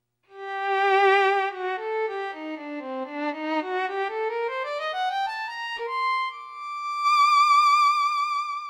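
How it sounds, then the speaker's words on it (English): A Roland Aerophone AE-10 digital wind instrument set to a violin tone plays a solo melodic line, notes rising and falling with vibrato, ending on a sustained swelling note, clear and close with no talking. "Let's see what the violin sounds like."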